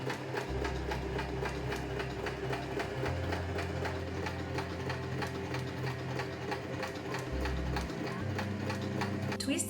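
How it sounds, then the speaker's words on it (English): Sewing machine stitching a pin line on fabric, a steady rapid mechanical clatter of the needle running continuously, with the motor hum shifting pitch slightly as the speed changes. "I sewed the pin line with the sewing machine"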